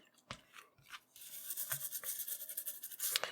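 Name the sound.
scrubbing and cleaning the back of a circuit board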